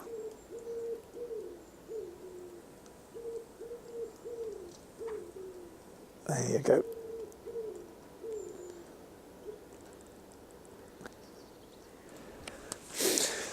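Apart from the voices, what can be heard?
wild owl hooting in garden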